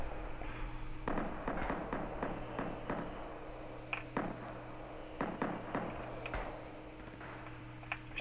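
Gunfire in the Rising Storm video game, rapid bursts of sharp cracks and pops in quick rhythmic volleys, moderately distant over a steady low hum.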